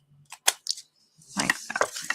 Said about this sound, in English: we're just going to trim this off again